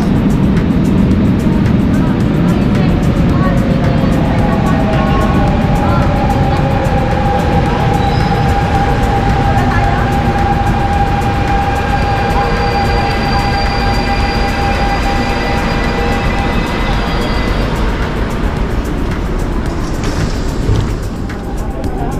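A train rumbles into a station near Disneyland Paris and slows with squealing metallic brakes and long whining tones, loud and continuous for over twenty seconds.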